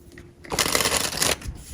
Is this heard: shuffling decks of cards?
yes